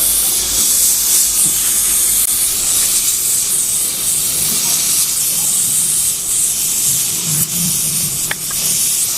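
A gas welding torch heating an e-rickshaw battery terminal to form a post, giving a loud, steady roaring hiss that runs unbroken throughout with faint clinks near the end.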